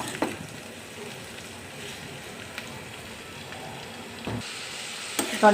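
Spiny gourd frying in a pan, a quiet steady sizzle with a few sharp scrapes and clatters as the pieces are stirred and turned over.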